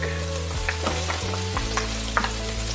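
Garlic fries in a pan for paella, a dense crackling sizzle close up with a few stirring scrapes and knocks, no speech.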